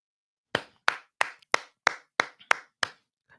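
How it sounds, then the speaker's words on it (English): Eight sharp, evenly spaced hand claps from a single person, close and loud, applauding goalkeeper Andre Blake, with no other sound between them. "Big clap for Andre Blake."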